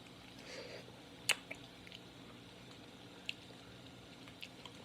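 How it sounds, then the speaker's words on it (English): Someone quietly chews cold, spicy BBQ jackfruit made as vegan pulled pork, giving soft squishy mouth sounds with a few sharp clicks and smacks spread over several seconds. "My first time eating jackfruit, guys"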